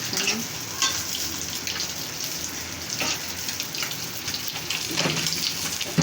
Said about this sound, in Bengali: পানি দিচ্ছি